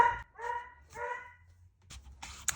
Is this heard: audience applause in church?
no